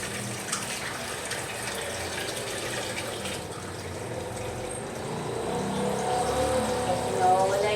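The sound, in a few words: water being poured into a pot of mung beans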